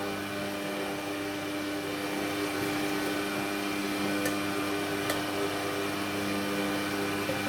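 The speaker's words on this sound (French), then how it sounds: "ومن بعد شغلي الخلاط" An electric blender mixes beignet batter with a steady, moderately quiet motor whine that holds evenly throughout, with no voices over it.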